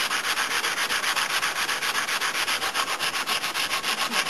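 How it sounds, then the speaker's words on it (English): Rhythmic back-and-forth scraping of hand wet sanding on a model submarine, steady strokes about five per second, close and unbroken, with no speech. "I've got a bucket of water, wet it, and start sanding it down."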